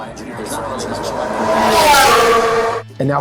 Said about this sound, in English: we get to experience some actual fast cars on the track